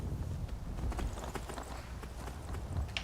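Horse hooves clip-clop at a steady walking rhythm in the video game Skyrim, the footfalls close and distinct over a low background.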